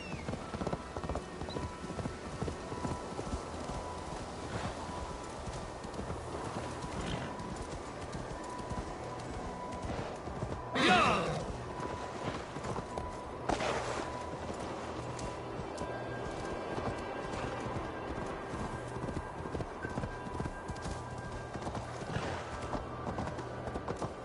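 Horse hooves clip-clop steadily through the Sherwood Forest area of the game Assassin's Creed Valhalla, a continuous mid-level trot under ambient forest sounds and faint birds, with a brief louder burst partway through.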